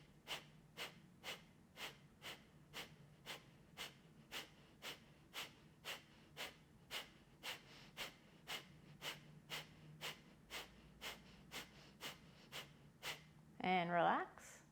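Kapalabhati breath of fire: a long run of sharp, forceful nasal exhales at a quick, even rhythm, about two per second, close and distinct, ending with a deeper breath.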